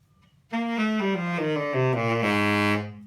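A tenor saxophone plays a short run of sustained notes stepping downward, rich and close, alone after a moment of quiet.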